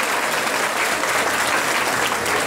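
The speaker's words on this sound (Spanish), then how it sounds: "Si ese aplauso era para Jesús, es un poco más fuerte, más fuerte, más fuerte" A church congregation at an evangelization and healing mission claps together in sustained, dense applause, close and steady throughout without any voices standing out.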